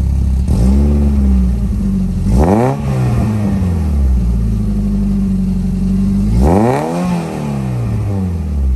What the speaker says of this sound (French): L'échappement Rému, incroyable.